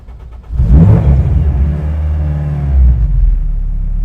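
A supercharged K20 engine in an Acura NSX cranks and catches at about half a second, then holds a loud, close, steady idle with a brief rev swell near three seconds. Nobody speaks.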